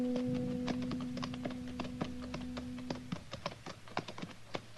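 Horses' hooves clip-clopping up a nearly deserted main street at noon as a radio drama effect, several horses in an uneven walking rhythm of sharp clops over a low steady hum, fairly close, with no talking.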